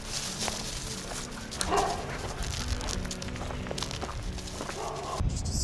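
A farm dog barks and yips in excited bursts, fairly close, amid outdoor farmyard noise with footsteps and a chain-carrying dog moving about.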